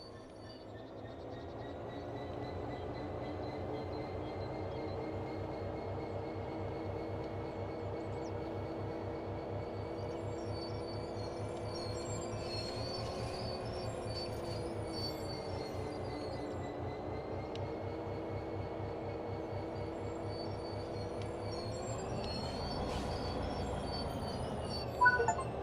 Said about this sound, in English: Slowly, come to a stop just in front of the wagons.